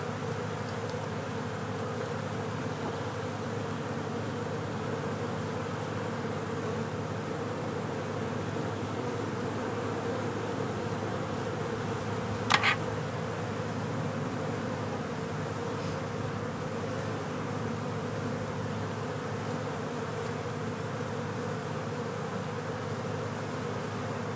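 Honeybees buzz steadily around a hive with fresh comb holding eggs and pollen, a continuous moderate drone with a single sharp click midway and no talking.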